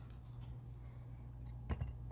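Wire tail on a crystal bead purse fob snipped with cutters, a quiet hum of room noise then one or two sharp small clicks near the end.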